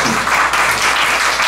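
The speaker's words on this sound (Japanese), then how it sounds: "拍手" Loud, dense applause from a live audience at a big band concert in a small jazz club, a steady wash of clapping throughout with no pauses.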